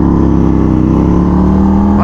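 Custom Honda Grom motorcycle engine idling nearby, a steady throbbing hum with a slight rise at the end, under a voice.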